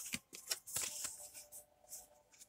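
A thin oracle card deck with a nice bend is shuffled by hand in a few quick papery bursts, close and fairly quiet, with no talking.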